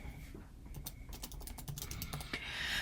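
Someone types a search word on a computer keyboard, a quick, irregular run of close, crisp key clicks ending in a few final taps.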